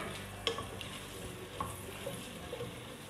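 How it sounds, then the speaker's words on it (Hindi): Onions fry in a pan until golden for chicken malai handi, giving a soft, steady sizzle with occasional scrapes of a stirring spoon, fairly faint and close. "प्याज हमारा गोल्डन होना शुरू हो गया, अभी थोड़ा और चाहिए गोल्डन।"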